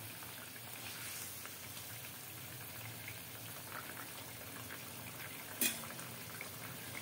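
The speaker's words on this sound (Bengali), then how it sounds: "এই যে ফুটছে" Fish curry broth with bata fish bubbles in a pot in a home kitchen: a faint, steady low simmer and sizzle, with one brief sharp clink partway through.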